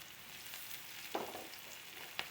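Chopped onion frying in a pan, a quiet, steady sizzle with a couple of brief stirring scrapes.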